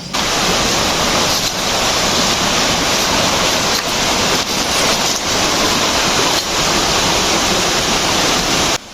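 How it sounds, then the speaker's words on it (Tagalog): Talusog Falls in Magsaysay, Davao del Sur, a jungle waterfall, roars as a loud, dense, continuous rush of falling water close by, with no voices over it. "ipapakita ko na sa inyo ang magandang talon na tinatawag nga Talusog Falls of Magsaysay, Davao del Sur"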